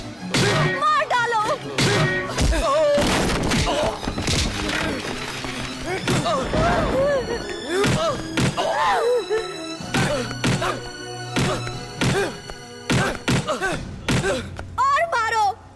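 Heavy punches and thuds land in a film fight beating, a rapid flurry of loud, close whacks and crashes mixed with shouting voices and dramatic score.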